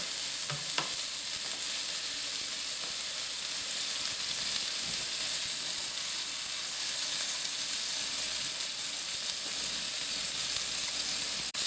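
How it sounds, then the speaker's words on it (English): A 23-year-old freeze-dried pork chop fries in a pan, giving an even, close sizzle that holds steady throughout with small crackles and pops and no talking. "And I'll let that cook for a few minutes."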